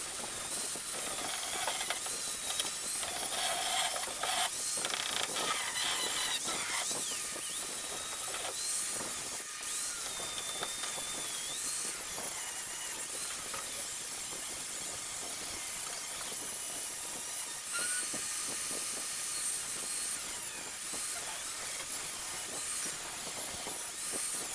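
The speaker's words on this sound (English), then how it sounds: "let's hit this with a flapper wheel" A flap disc grinds the drip rail on a 1967 Mercury Cougar, making a continuous harsh, hissing abrasive roar for about twenty-five seconds with small shifts in pitch and no voices.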